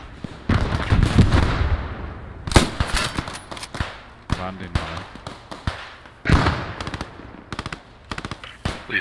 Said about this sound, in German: Jetzt höre ich das AT-Geschütz wieder.